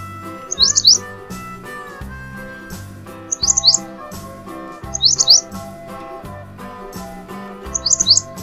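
Bright, quick bird chirps, meant as a bulbul, pop up in short bursts every couple of seconds over a steady children's alphabet song with instruments.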